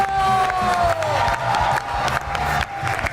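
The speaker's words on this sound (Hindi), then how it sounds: "इतनी तालियां तो मेरे लिए भी नहीं कभी बजी।" Audience applause and cheering fill the room, a dense continuous roar of clapping with whoops, loud and steady throughout.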